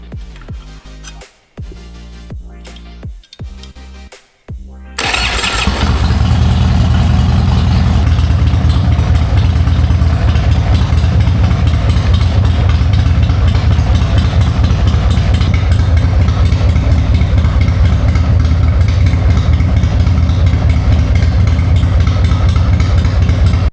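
A motorcycle engine cranks in short bursts, then catches after a new part is fitted and settles into a loud, steady idle that runs on alone for the rest of the clip.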